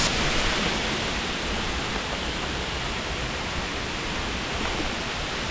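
A tall waterfall in a forest during rain pours with a steady, unbroken roar that fills the whole scene at close range and does not change in level.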